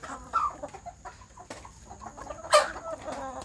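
Native village chicks cheep and peep in short, scattered high calls, close by, over soft rustling and pecking sounds.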